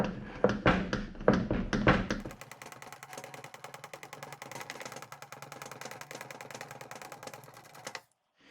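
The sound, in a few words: Tom Thumb hand pump pumping hydraulic oil into lathe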